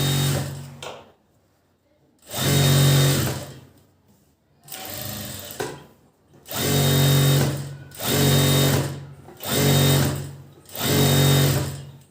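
Sewing machine stitching the joint where a sleeve is attached, running in about six loud bursts of steady whirring, each a second or two long, separated by short pauses.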